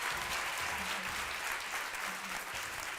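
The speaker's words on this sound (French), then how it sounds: "peut-être tu peux te relever puis reprofiter d'un applaudissement général" A general round of applause from the audience at a children's battle performance event, steady, full clapping from a large crowd that holds at an even level throughout.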